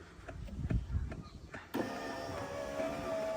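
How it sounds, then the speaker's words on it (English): A Nissan R33 Skyline's electric window motor starts after some knocks and handling noise, then whines steadily as the glass travels down, close and clear with no talk. "Window down."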